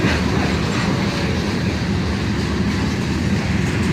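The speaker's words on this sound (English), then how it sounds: "over the sound of the train" A train rolls steadily past close by, its loud continuous rumble and rail noise filling the whole stretch without letup and with no voices.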